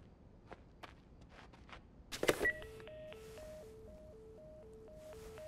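Telephone dialing in The Last of Us on PS4: after a brief burst of clicks, a steady run of alternating dial tones beeps in a regular rhythm, clear and fairly loud over a quiet game background with faint footsteps.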